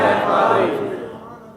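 Large crowd at a religious gathering chanting a slogan together, loud, dense and near, holding for about a second before fading slightly.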